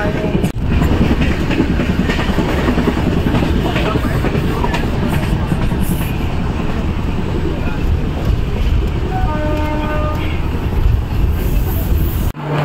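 A Mumbai local train at Dadar station rumbles loudly and steadily throughout, with rail clatter and a brief tonal horn or brake squeal near the end, while voices murmur underneath.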